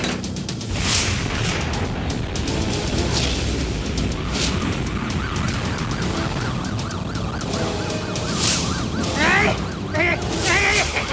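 Rocket fire in a Bengali cartoon, a loud dense barrage of booms and whooshing launches with siren-like wails, continuous throughout with dialogue mixed in.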